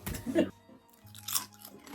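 A quick crunchy bite of fried gluten-free gnocchi followed by brief chewing, close up, with a soft voice murmuring in the background.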